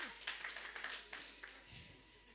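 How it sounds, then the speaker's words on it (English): Audience applause after a guest is thanked at a corporate HR conference, with short bursts of clapping that rise and fade, moderately faint and scattered through the room. "Another round of applause for her."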